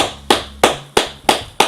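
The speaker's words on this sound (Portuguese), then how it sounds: "agora, se eu começar a bater várias palmas" Five sharp, evenly spaced hand claps ring out close and loud in a quiet room, each with a short decaying tail, aimed at a sound sensor that counts claps.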